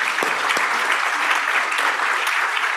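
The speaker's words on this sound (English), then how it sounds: "very warm applause to all of our speakers" Warm audience applause for the speakers at a marine spatial planning conference session, a dense, even roar of many hands clapping throughout, with a couple of sharper claps near the start.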